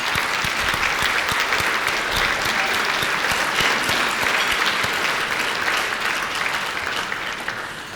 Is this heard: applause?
yes